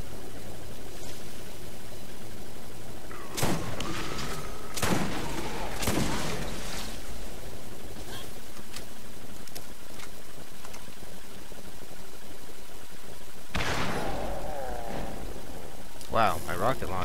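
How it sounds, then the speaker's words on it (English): Missile-firing weapon in the Borderlands video game, several sharp launch blasts in separate bursts with whooshing trails, set over a steady hissing game ambience and faint talk. "It shoots missiles!"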